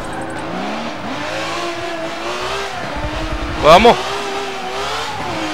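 A Ferrari race car's engine revs and roars in the Forza Motorsport 7 racing game, loud and close with rising and falling pitch and a brief burst near the end, while someone talks over it.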